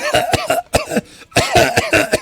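A voice imitates coughing, several rough hacking bursts in quick succession with a short pause midway, close and fairly loud.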